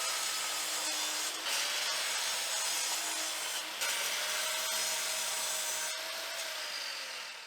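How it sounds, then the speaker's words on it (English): A new saw slices through scaffold board wood at a 45-degree angle, giving a steady, close rasping cut that runs continuously for several seconds, with brief shifts in pitch as the blade moves through the board. "Now I'm setting my new saw for 45 degrees. and cutting the other part."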